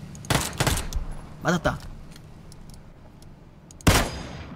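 Gunfire in PUBG Battlegrounds comes as a few sharp shots, one early pair and a later single crack, with excited Korean voices talking between them.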